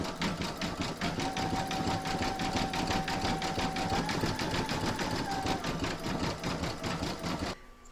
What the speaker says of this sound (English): pop that back into your machine and stitch round number 7, and that's going to do all the satin stitching around the edge here